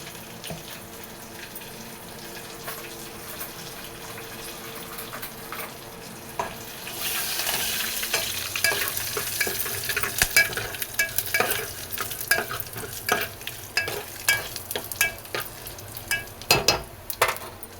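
Cumin seeds and curry leaves hit hot oil for a lemon pickle tempering. A moderate sizzle swells into a louder, spitting crackle halfway through, with sharp pops and stirring close by.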